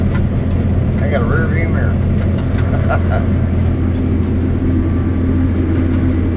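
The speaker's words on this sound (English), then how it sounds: "I got a John Deere 4890 with an 890 specialty crop head" A John Deere 4890 swather with an 890 specialty crop head runs steadily while cutting second-cutting hay, its engine drone loud and constant throughout, with someone talking over it.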